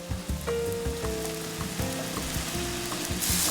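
Linguine pasta is tipped straight from the pot into a hot pan and sizzles loudly, a dense, steady frying hiss with faint stirring and scraping over it.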